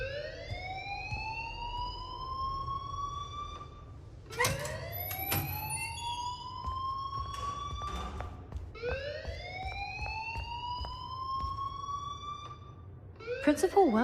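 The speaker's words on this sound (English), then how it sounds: "please turn off that alarm since that's your job" An alarm in the video game Life is Strange wails as a looping rising siren tone that sweeps upward over and over, with a voice talking briefly partway through.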